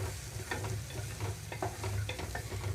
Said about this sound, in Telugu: వీటితో పాటుగా కట్ చేసి పెట్టుకున్న డ్రై ఫ్రూట్స్ అన్నీ వేసేసుకున్నాను పచ్చి కొబ్బరి కూడా కొంచెం వేయించుకుంటేనే బాగుంటుంది